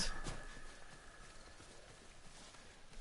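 Horse hooves clip-clopping in the video game Ghost of Tsushima, a soft, steady walking gait heard faintly with a brief louder knock at the start and low game ambience beneath.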